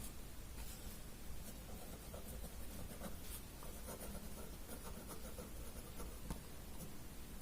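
Pen scratching on paper as a title is handwritten, faint continuous scribbling strokes against a hiss of background noise, with no speech.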